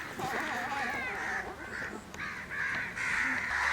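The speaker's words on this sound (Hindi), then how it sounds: "एहने जे काग कौआ के आवाज हम सुनित रहब" Crows caw repeatedly in harsh, overlapping calls that carry on steadily through the scene, fairly loud against a rustling outdoor background.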